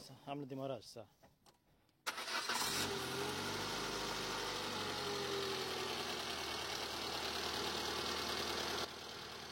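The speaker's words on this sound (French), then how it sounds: "On va démarrer le moteur." A car engine run without oil cranks and catches after a brief voice, then settles into a steady, loud idle that runs on to the end.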